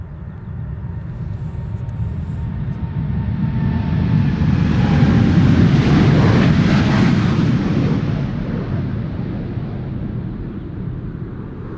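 An Airbus A380 airliner passes at Schiphol Airport, a deep engine roar swelling to a loud peak mid-pass then fading away, alone with no voices.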